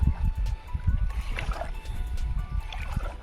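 Small boat rocking on Lake Svitiaz, with low, soft water lapping and sloshing against the hull in an uneven rhythm, plus a few faint splashes over steady outdoor ambience.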